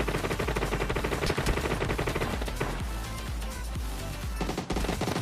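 Gunfire in PUBG Mobile Lite, dense rapid automatic bursts of shots filling the whole stretch with loud, continuous crackling and booming, no talk over it.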